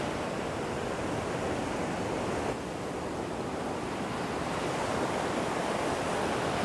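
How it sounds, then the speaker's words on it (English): Ocean surf on an open beach during a big swell, with sets up to two meters, heard as a constant, dense, even roar of breaking waves with no distinct gaps, moderately loud and uninterrupted. "Big swell."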